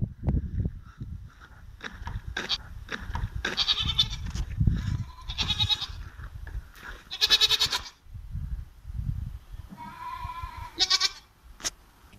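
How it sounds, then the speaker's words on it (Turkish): A goat at a construction site bleats several times, loud and near, with shuffling footsteps and rustling movement in between. "Bizim işimizi elimizden almak isteyen keçi."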